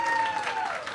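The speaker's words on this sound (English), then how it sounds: "Bring a round of applause for Bert" Brief wash of crowd applause, dense clapping throughout with a voice briefly audible over it.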